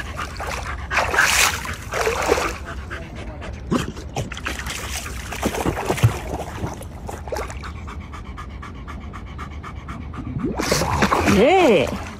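A dog by the water pants rapidly and rhythmically in close bursts, breaks off into higher whimpers, and ends with a rising, whining cry, all near and fairly loud.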